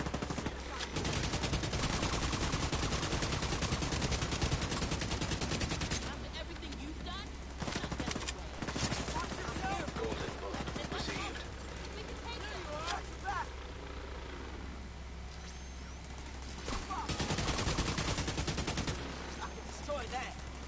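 Rapid turret gunfire in a combat video game, long bursts of fast automatic shots with short pauses between them, loud and close, over a low engine hum.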